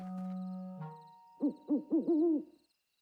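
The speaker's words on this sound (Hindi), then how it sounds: "तो देखा बच्चों, ये तो एक उल्लू है।" Cartoon owl in a children's animated show gives a run of four rising-and-falling hoots after a sustained musical tone, close and clear with no talking.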